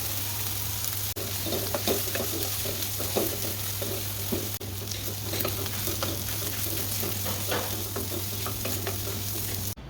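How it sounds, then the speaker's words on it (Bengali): Pointed gourd peel mash with coconut and dried chilies being ground by hand on a stone slab, a steady scraping and rubbing with repeated gritty strokes, close and fairly loud, no talking. "এখন এই ভর্তাটা আমি এই যে পাটা বেটে নিচ্ছি"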